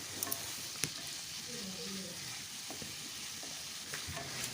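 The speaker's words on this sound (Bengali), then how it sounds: "কিমাটা দেওয়ার পর বেশ কিছুক্ষণ ধরে এটাকে কষিয়ে নেব" Marinated minced meat stir-frying with spices for keema aloo dum, a faint, steady sizzle with occasional soft clicks of a spoon against the pan.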